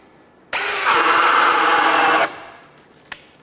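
A Ryobi drill running in high gear on an Edge battery starts abruptly, whines loud and steady for under two seconds while boring through, then stops, with a small knock shortly after.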